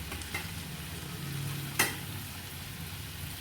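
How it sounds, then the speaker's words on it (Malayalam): Tomato added to raw mango curry sautéing in a pan gives a steady sizzle and frying hiss, with a brief sharp clatter partway through and no talk. "തക്കാളി ഇട്ട് കൊടുക്കാം,"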